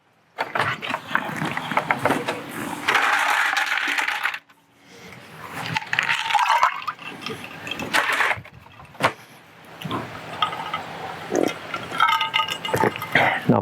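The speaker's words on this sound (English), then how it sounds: "You just pour water into it, turn on the ice maker" Water poured into a Bluetti MultiCooler ice maker, with splashing, trickling and clinking bursts that stop and start, plus mechanical clatter and a short pause midway, close and fairly loud.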